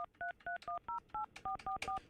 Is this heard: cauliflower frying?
no